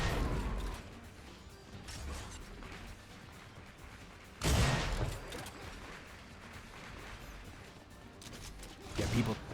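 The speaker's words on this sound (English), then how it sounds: "just a split second before the cannon goes off" A cannon fires in the arena shooter Unreal Tournament during a competitive match, a sudden loud blast roughly midway, followed later by another burst, over constant game noise and a commentator's voice.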